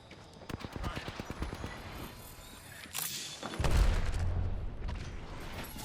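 Rapid bursts of gunfire in the Apex Legends shooter, a quick rhythmic string of shots followed by a louder blast and rumbling impact, with brief voice callouts.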